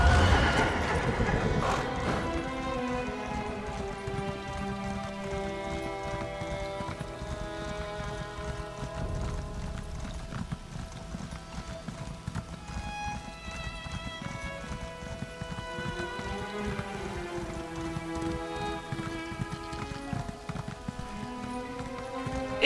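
Horse neighing and clip-clopping hooves in the Elder Scrolls Online video game, heard over a continuous, steady bed of music-like tones with no talking throughout.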